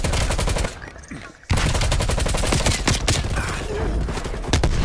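Rapid bursts of automatic gunfire from a first-person shooter video game, loud and dense, with a short lull before the shooting resumes and continues steadily to the end.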